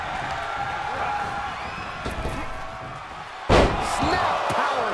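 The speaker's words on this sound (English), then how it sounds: "Snap power slam" A wrestler slams an opponent onto the ring mat with a snap power slam at a pro wrestling event, a single loud thud over steady crowd noise and commentary voices.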